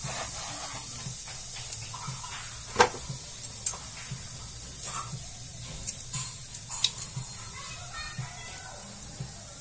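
Cumin seeds and a dried red chili sizzling in hot oil, a steady soft hiss with a few small pops and clinks of a utensil against the pan, heard close up.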